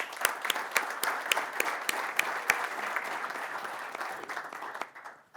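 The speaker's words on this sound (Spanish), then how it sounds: "Un aplauso, muchas gracias." Applause from a conference audience at an agricultural talk on cereal crop rust, with sharp individual claps standing out over a dense steady patter, fading out toward the end.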